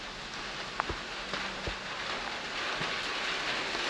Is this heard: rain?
yes